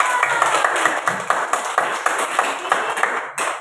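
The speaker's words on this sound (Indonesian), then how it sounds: "Tadi kita belum kasih aplaus ya untuk Raffi." A classroom of children claps together for a young pupil, a lively run of quick, bright, close hand claps that keeps up steadily before stopping abruptly near the end.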